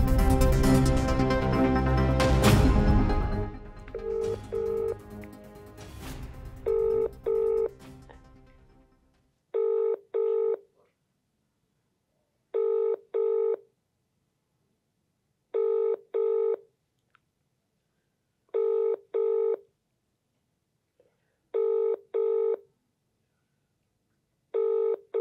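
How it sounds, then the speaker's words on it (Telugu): A telephone call to an unanswered line rings repeatedly: after a few seconds of loud, busy sound with voices, evenly spaced double-burst ringback tones repeat alone about every three seconds. "మీరు కాల్ చేస్తున్న వ్యక్తి సమాధానం ఇవ్వడం లేదు"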